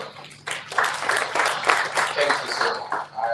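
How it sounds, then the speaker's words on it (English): An audience applauds at an educational conference, a dense patter of clapping that swells after a brief quieter start and holds fairly steady before tapering near the end. "A round of applause for him."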